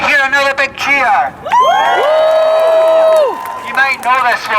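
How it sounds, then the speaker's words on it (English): Crowd at a trans rights rally letting out a big sustained cheer, with long whoops and shouting voices held together for a couple of seconds, loud and close, with talking just before and after. "Can I hear another big cheer?"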